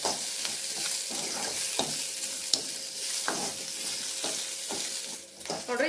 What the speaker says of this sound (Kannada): ಸ್ವಲ್ಪ ಫ್ರೈ ಆಗುತ್ತೆ ಎಣ್ಣೆ ಒಳಗೆ ಮೀಡಿಯಮ್ ಫ್ಲೇಮನ್ನು ಇಟ್ಕೊಂಡು ಇವುಗಳನ್ನ ಸ್ವಲ್ಪ ಕೆಂಪಾಗುವವರೆಗೂ ಹುರ್ಕೋಬೇಕು